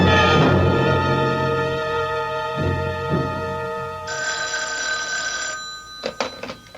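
A telephone rings with a bright, steady electronic tone during a phone call scene in an old-time radio mystery drama. It sounds alone and fairly loud, then cuts off into a few soft knocks and handling noises.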